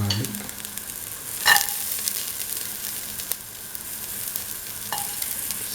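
Garlic fries in a pan for a tomato and coconut milk mung bean stew, giving a steady close sizzle broken by a few stirring scrapes and clatters.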